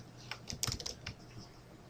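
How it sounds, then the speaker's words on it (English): Keys clacking on a computer keyboard while entering an input message in an Excel 2010 spreadsheet, a quick irregular burst of close taps in the middle of a quiet room, with no talking. "When I'm all done typing"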